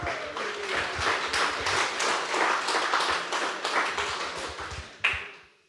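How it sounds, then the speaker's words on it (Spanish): A church congregation applauds with fast, dense clapping that holds steady for several seconds, then ends with a sharp final clap and fades out. "Fuerte aplauso a esa iglesia de Cristo."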